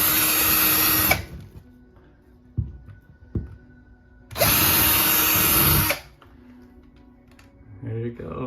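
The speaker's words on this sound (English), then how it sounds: "And then drill your holes and all the junk goes right into the bag" A power drill bores holes in drywall in two loud whirring bursts of about a second and a half each, separated by quieter handling knocks and clatter.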